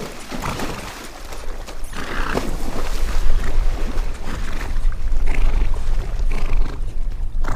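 A horse swims through water, and the splashing and churning make a dense, rough wash that is loud and close throughout, with no speech.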